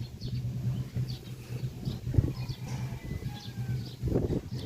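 A bird coos softly in a low, repeated murmur, with faint outdoor background noise and a few brief louder bursts.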